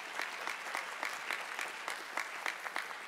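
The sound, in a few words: audience applause for a choir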